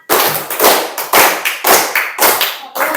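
A classroom of students performs a rhythmic prayer clap, about eight loud, sharp bursts of many hands striking together in a fairly regular pattern, each with a short decaying roomy tail and brief gaps between them.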